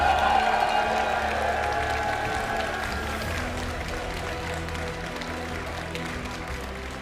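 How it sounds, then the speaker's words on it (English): Pokémon regional championship audience at the Lille event applauds and cheers steadily throughout, a broad wash of clapping filling the hall at moderate distance with a faint voice over it. "I know we're already applauding, but I want to hear you one more time for our Lille 2026 Regional Champion, Hikami"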